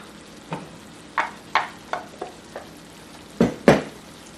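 A utensil stirs ground beef and potato with spices in a pan for stuffed peppers, giving about eight separate scraping strokes at an uneven pace over a faint sizzle, the last two loudest.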